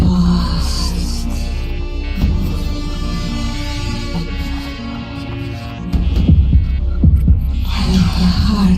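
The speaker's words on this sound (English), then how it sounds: "Like a heartbeat" A heartbeat sound effect in a Halloween horror piece throbs in slow, low pulses beneath a humming drone, growing louder toward the end.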